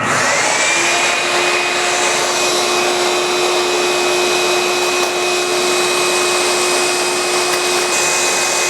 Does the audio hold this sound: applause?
no